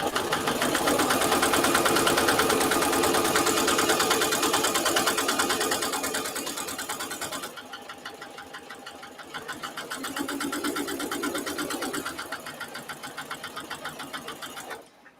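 A sewing machine fitted with a walking foot stitches a placemat in a long, steady run of fast, rhythmic needle chatter, close and loud, then drops to a lighter, slower pace for the second half.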